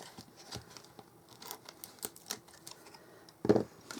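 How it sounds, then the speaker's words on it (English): Score tape peeled off paper during a Stampin' Up card-folding craft, a single short tearing rip standing out near the end after faint scattered paper rustles, close and alone without talk. "So we take our score tape off there."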